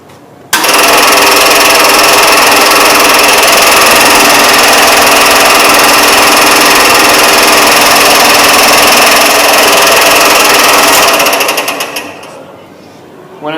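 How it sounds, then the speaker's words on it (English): A Mr. Roth scroll saw starts up and runs steadily, its loud, constant motor buzz and reciprocating blade cutting a workpiece for about ten seconds before winding down as it is switched off. "I'm now ready to start using the scroll saw."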